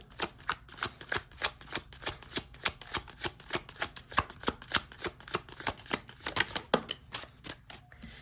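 Tarot cards are shuffled close up in a quick, steady rhythm of soft riffling slaps, repeating many times at a fairly quiet level.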